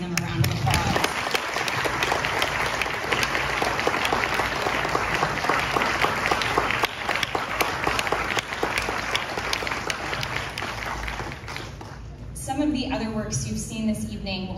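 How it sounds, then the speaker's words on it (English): Sustained applause from a large outdoor amphitheater audience at a ballet performance, steady and dense for most of the clip, fading near the end as a voice starts to speak. "If you can join me in giving them a round of applause."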